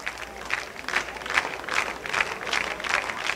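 Baseball fans applaud in rhythmic bursts, roughly two claps per second, as a steady crowd clapping chant builds before the final pitch of a game.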